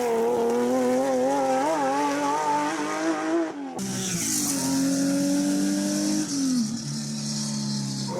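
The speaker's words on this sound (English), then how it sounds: "Boxer engines. They don't sound really muscular, like, obviously, like a V8" A Porsche rally car with a flat boxer engine revs hard, its wavering buzzy note rising and falling, then cutting off abruptly before a fresh run of rising, shifting engine tones, loud and close.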